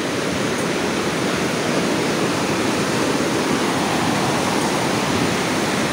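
Loud, constant rushing roar of a fast-flowing river current in northern Finland, a dense, steady wash of water close by with no talking.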